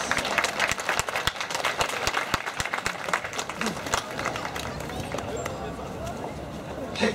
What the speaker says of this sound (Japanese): 皆様改めて盛大な拍手をお願いします。